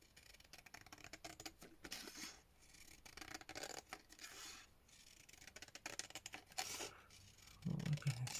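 Scissors trimming paper for a lavender junk journal, a steady soft rustling and scraping close by, continuous and quiet with a few firmer crunches toward the end.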